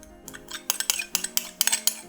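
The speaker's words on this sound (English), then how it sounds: "Just mix it around for a little bit" A utensil mixes Japanese mayo into a sushi toast mixture in a bowl, giving a series of light clinks and scrapes against the dish, close and fairly quiet, with no talking.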